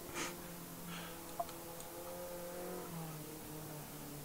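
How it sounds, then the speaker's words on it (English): An NSU club race car in the RaceRoom sim racing game at Zandvoort, its small engine droning steadily with a low harmonic hum and a faint rev near the start, heard alone at moderate level. "I forgot to start the engine."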